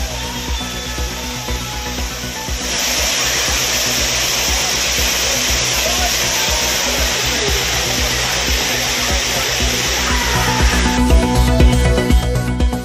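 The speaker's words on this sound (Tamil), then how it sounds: "குற்றாலத்தில் அருவிகளில் சுற்றுலா பயணிகள் ஆனந்த குளியல்." Broad, steady roar of the Courtallam waterfalls crashing down as tourists bathe, a dense unbroken rush that holds constant for the whole stretch.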